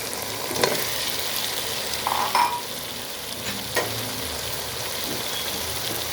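Potatoes go into well-fried sizzling masala for chicken biryani, with close stirring scrapes and clatters over a constant hiss of frying and a few sharp knocks, no voices.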